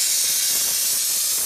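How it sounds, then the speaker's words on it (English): A McCulloch MC1275 heavy duty steam cleaner hisses continuously with a close, steady spray of steam, with no talking. "So this is the steam cleaner thing."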